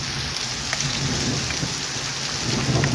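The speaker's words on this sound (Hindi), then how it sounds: "फ़िलहाल यहाँ पे तेज़ बारिश हो रही है।" Heavy rain pours steadily over Tangmarg and Gulmarg in Baramulla district, a loud dense hiss with low rumbling underneath, constant throughout and with no voices.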